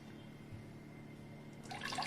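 Quiet liquid sounds, a faint pouring and swishing of tamarind water and jaggery water being mixed for pani puri, growing a little louder toward the end.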